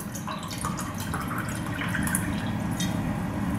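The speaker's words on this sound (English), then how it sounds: "you see, it pours out of a bottle" Thai rice beer pours from a bottle in a continuous gurgling, splashing stream, close and fairly loud for a few seconds with no talking.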